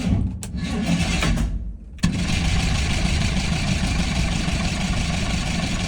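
The engine of an abandoned project truck cranks over with no fuel reaching it, a loud, close, steady starter churn that briefly dips and then carries on evenly without catching.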